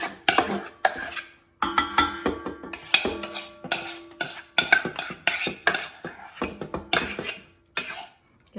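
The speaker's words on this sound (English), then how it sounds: "Now we're going to add the mashed potatoes and the butter." Spoonfuls of mashed potatoes and butter drop into a mixing bowl, with repeated close clinks and scrapes of a utensil against the bowl in irregular bursts separated by short pauses.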